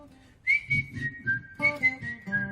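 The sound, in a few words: person whistling imitating a bird's tune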